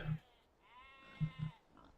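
Sheep in a video game bleat in a short, faint, wavering call accompanied by a few soft low thumps.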